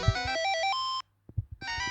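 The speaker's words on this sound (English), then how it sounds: "And we've got pause, which is nice. Which just gives you a nice little tune." Pause jingle from the Game Boy game Castlevania: The Adventure, a short bright chiptune melody of stepping beeps lasting about a second, then a brief gap with faint clicks before the tune starts again.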